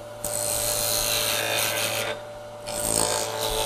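Wood being turned on a lathe with a bowl gouge, shaping a toy car from a 2x4: a steady, loud, close scraping hiss over a constant motor hum, with a brief lull partway through before the cutting resumes.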